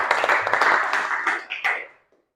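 A classroom of pupils claps together in a short burst of fairly close, dense hand claps, fading out after about two seconds.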